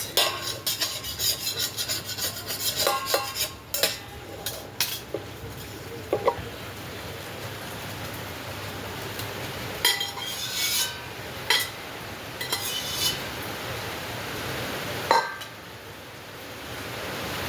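Cooked pasta being scraped around a pan with a utensil, irregular close rasping and clinking strokes coming in clusters with quieter stretches between, no talking.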